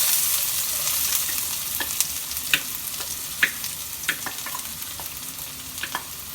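Onions going into hot oil for chicken bun stuffing, a steady close sizzle of frying with occasional sharp clicks of stirring, no talk.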